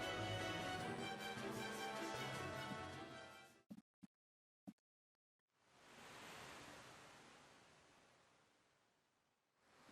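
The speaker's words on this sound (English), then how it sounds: "Even the waves are really good." Ocean waves in the Final Fantasy V pixel remaster game: a soft, steady surf wash swells and fades, broken by a few short musical blips and a brief silence before the waves return.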